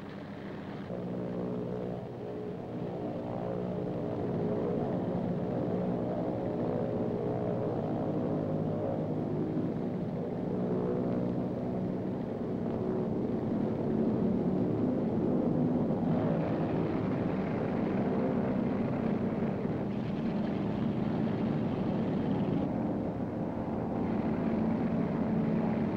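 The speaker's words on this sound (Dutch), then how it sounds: "De vliegdekofficier loodst de vliegtuigen op de katapult." Steady engine drone of aircraft on the flight deck of the Dutch aircraft carrier Hr.Ms. Karel Doorman as planes are guided onto the catapult. A continuous loud roar holds for the whole stretch, with no talking.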